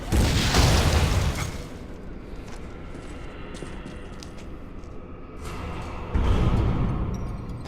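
A missile explosion in the video game Metroid: Other M, a loud booming burst that fades into a rumbling tail, followed by a second heavy blast near the end.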